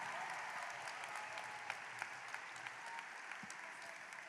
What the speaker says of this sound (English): Let's give them and this school year a happy round of applause.